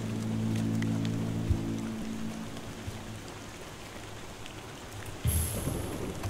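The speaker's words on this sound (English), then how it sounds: "I feel like there's a lot of rain going on in this game." Steady rain falls in the dark fantasy game Tainted Grail: The Fall of Avalon, a constant broadband wash with low tones beneath, a soft thump early and a brighter swell near the end, no talking.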